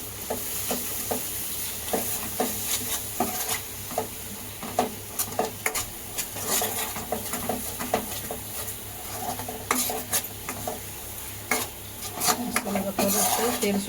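A ground masala paste of roasted dry coconut, garam masala and whole spices sizzles as it is stir-fried in oil for a village-style crab curry, with a spoon repeatedly scraping and clinking against the pan, close and steady throughout.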